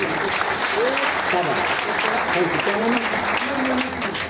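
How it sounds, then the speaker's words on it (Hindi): Loud, sustained applause from a seminar audience at a business event, continuous clapping with voices and cheering calls mixed in throughout. "तालियां।"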